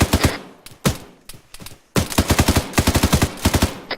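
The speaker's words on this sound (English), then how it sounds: "See? Rapid fire." Rapid automatic gunfire in the video game ArmA 3, loud close bursts of shots in quick rhythmic strings separated by short pauses.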